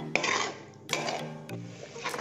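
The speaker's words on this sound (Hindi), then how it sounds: "असी विच विच पेस्ट को हिला भी लेना" A spoon stirs ginger garlic paste cooking over medium flame in a pan, producing a few scraping, clattering strokes against the metal with faint sizzling between them, close and moderately quiet.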